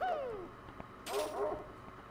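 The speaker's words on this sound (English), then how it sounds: "Stop barking at me." A video-game dog sound in Super Mario Star Road plays as short, high, whining yips: one falling cry at the start and a quick pair about a second later, heard close over a quiet background.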